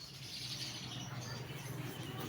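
Macaw parrots and other birds in pet shop cages, a faint wash of chirps and calls over steady indoor background noise, with no one talking.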